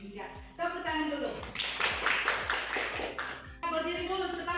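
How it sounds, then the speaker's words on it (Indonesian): A class of vocational school students bursts into clapping in the middle of a lesson, a lively mass of hand claps mixed with excited voices, bracketed by the teacher's speech before and after. "tepuk tangan dulu"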